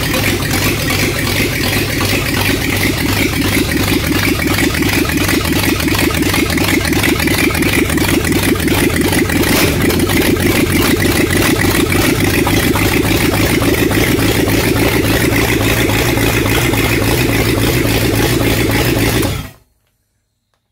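Flathead Ford V8 fitted with two Holley 4412 carburetors runs loud and close at a steady, throbbing idle for about twenty seconds, then cuts off abruptly into silence.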